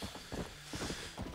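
Horse hooves clip-clop in the video game Red Dead Redemption, a few quiet, evenly spaced hoof thuds close by at a walking pace.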